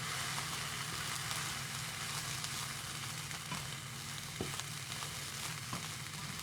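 Noodles stir-frying in a pan after a splash of light soy sauce, a dense continuous sizzle with a low rumbling background and a few sharp clatters from stirring.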